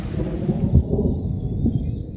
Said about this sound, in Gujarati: અને જો આ વરસાદ આવી રહ્યો છે